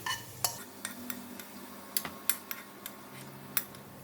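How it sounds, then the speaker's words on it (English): Metal utensil scooping crispy browned fried garlic out of a pan with the heat switched off, a series of sharp scrapes and clinks spaced irregularly, close and fairly quiet, with no talking. "I'm going to take some out from the pan"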